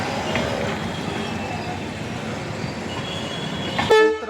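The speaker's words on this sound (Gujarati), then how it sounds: "આ રેલવેનો પાટો છે જ્યાં ટ્રેન પસાર થઈ રહી છે" Continuous rumbling clatter of a train running along the track, close and steady, with a brief sharp horn-like tone near the end.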